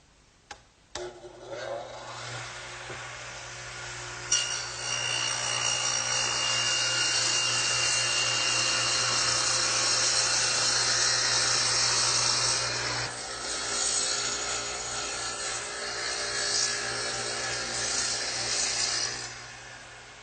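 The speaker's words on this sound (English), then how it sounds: "I've set the radial arm up to do just that." A radial arm saw cutting a quarter-inch-deep, three-quarter-inch-wide groove into a wooden workbench, with a motor spinning up and then a steady, loud whining cut lasting several seconds before easing into a lower running hum.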